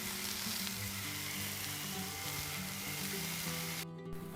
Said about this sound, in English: big slices of heirloom tomatoes. I'm going to grill those for just a few minutes.